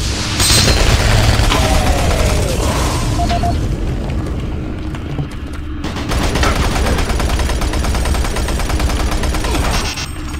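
Shotgun blasts and explosive gunfire from the video game Doom 3 BFG, loud booming reports over a dense, continuous wash of game combat noise with no speech.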